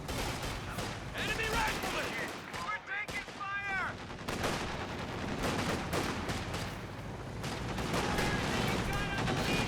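Rifle fire from German Grenadier squads in Company of Heroes 2, steady crackling volleys of shots mixed with other battlefield noise throughout, under game voice lines and chatter.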